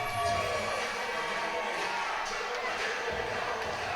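A steady crowd roar from spectators at a college volleyball match between Carson-Newman and Coker, a dense wash of cheering voices at moderate distance with no single standout sound.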